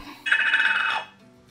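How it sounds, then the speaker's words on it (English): A notification bell rings once as a short sound effect, a bright sustained ring lasting under a second before fading quickly, alone with no talk. "don't forget to ring that bell notification so you don't miss out on any"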